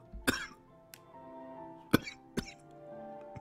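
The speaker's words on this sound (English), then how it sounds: "I'm making myself cough." Several sharp coughs and a throat-clearing hack from a character in the Mad Father horror game, spaced over a few seconds with quiet game music beneath.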